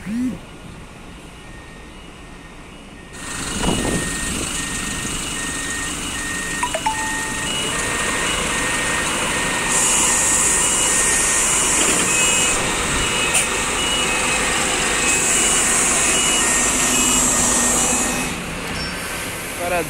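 Intercity coaches manoeuvring at Recife's bus terminal, with engine rumble, hissing air and repeated beeping alerts, plus periodic high whining tones over a busy background where people talk.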